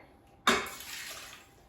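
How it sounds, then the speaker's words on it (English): A cup of water poured into an Instant Pot makes a sudden splash that settles into a short, fading gurgle, close up and alone. "I will add 1 cup of water"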